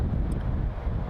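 Strong wind on a golf course, 30 to 40 km/h with gusts of 50 km/h, buffets the microphone in a brief, close, rumbling rush.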